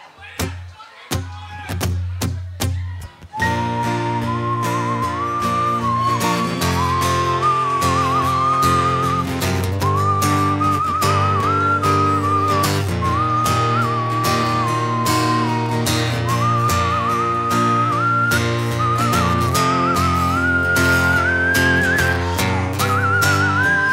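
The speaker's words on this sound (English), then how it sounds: "Well, Hamburger's gonna whistle the guitar solo in this shit right now" A person whistles a guitar solo at a live acoustic show in a brewery, a clear sustained melodic whistle above strummed guitar and bass, following a few opening strums.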